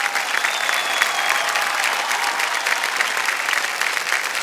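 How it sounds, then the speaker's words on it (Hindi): Studio audience on the game show Kaun Banega Crorepati bursts into steady, dense applause, a continuous wash of many hands clapping at close range with no talk over it. "तालियां बज जाएं।"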